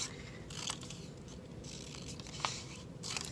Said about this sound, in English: You can also take some of these scraps that you used, cut out some triangles